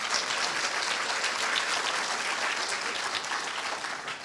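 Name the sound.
applause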